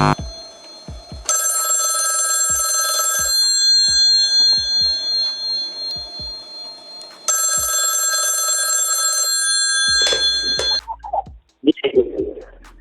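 Telephone bell ringing in two long bursts as a phone-line call connects, loud and sustained, with soft clicks between rings and brief talk at the end.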